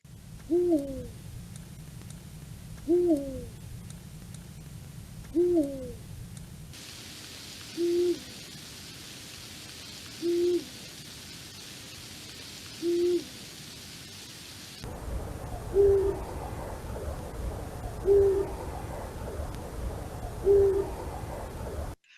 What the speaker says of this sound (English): They all have their own specific territorial hoot.